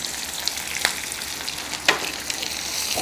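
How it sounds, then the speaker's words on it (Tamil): Dried manathakkali vathal (sun-dried black nightshade berries) dropped into hot oil for a quick kara kuzhambu: a dense, bright close sizzle with a couple of sharp spatula knocks, no speech. "இப்போது இந்த மணத்தக்காளி வத்தலையும் அதில் போடுறேன்."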